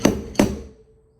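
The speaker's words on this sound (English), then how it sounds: "Now this slide hammer ain't the greatest." Two quick metallic thunks from a Harbor Freight slide hammer pulling a dent on a welded-on stud, close and loud, the second ringing briefly before fading.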